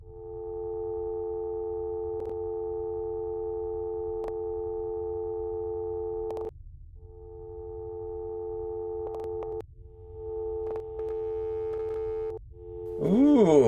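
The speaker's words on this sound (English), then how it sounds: "Dial tone." A telephone line gives out a steady electronic tone that cuts off and comes back in several stretches, loud and clear, ending in a burst of warbling noise, with no speech heard.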